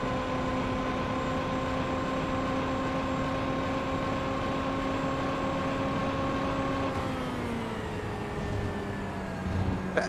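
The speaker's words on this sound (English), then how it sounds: "Just listen to this engine popping off the rev limiter." A sim racing car engine in a video game holds a high, steady whine against the rev limiter, then the pitch slides down as revs fall, loud and alone without talk.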